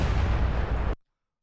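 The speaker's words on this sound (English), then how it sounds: "he decided to blow it up with dynamite" Dynamite blowing something up gives a dense, roaring burst of noise lasting under a second, loud and broad, then cutting off into sudden silence.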